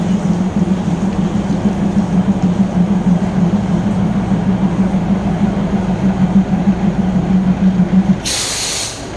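A train rumbles loudly and steadily with a low droning hum near Hua Lamphong station in Bangkok, ending with a burst of high hiss near the end.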